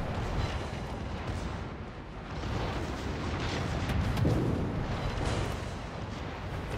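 Naval ship guns firing in a World of Warships-style battle, a continuous rolling barrage of deep booming blasts and rumble, loud and dense with overlapping explosions throughout.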